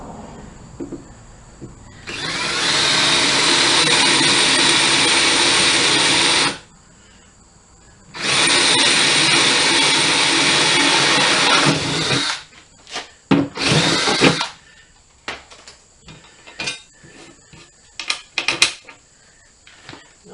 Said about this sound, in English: we'll just drill a bolt down in there so it lines it up